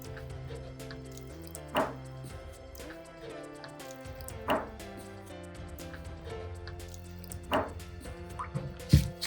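Water drips and plops in a few distinct splashes spaced a couple of seconds apart, over a low steady background hum.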